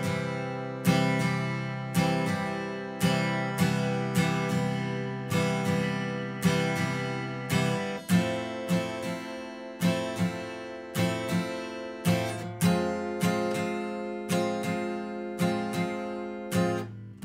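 An acoustic guitar strums the chords of a song in a steady down-up pattern, the strokes loud and rhythmic with no voice over them.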